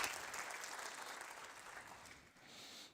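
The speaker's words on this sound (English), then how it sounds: "please give a round of applause." Audience clapping at a network operators' conference, a steady wash of applause that is fairly faint and fades out after about three seconds.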